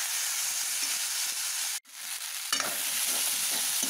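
Ginger, garlic and green chili fry in a pan while being stirred, giving a continuous close sizzle with scraping strokes and a brief drop in the hiss midway.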